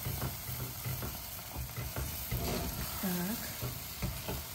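A spoon stirs choux dough of flour, water, milk, butter, sugar and salt in a pot on the stove, giving close, squelching, sizzly scrapes in an uneven rhythm, with one short spoken word.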